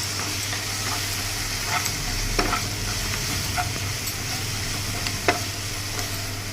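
Curry of softened tomatoes with cumin and coriander powders being stirred in a pan, a steady close sizzle with soft scraping stirs and occasional clicks of the spoon, no talking.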